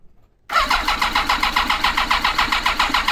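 A Yamaha FJR1300 motorcycle engine cranks on the starter without firing, during a spark check. A half-second of quiet gives way to a loud, steady, rhythmic churning that continues to the end.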